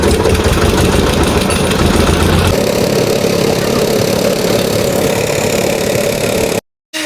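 A boat engine on a ferry carrying a car across the Ganges drones loudly and steadily up close, its low rumble easing partway through before a brief dropout at the end.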